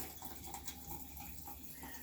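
Water pours steadily out of a bottle, one cupful emptied in a continuous gurgling stream that stays even and fairly close for the whole stretch, with no talking.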